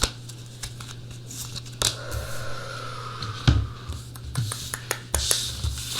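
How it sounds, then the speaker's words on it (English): Tarot cards are shuffled by hand for several seconds, giving a steady papery riffling with occasional sharper snaps and taps, close and fairly quiet, with no talk over it. "Let's go ahead and shuffle some cards."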